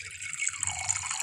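Water poured from a glass jug into a glass, a brief bright trickling and splashing stream that rises in pitch as the glass fills, close and alone.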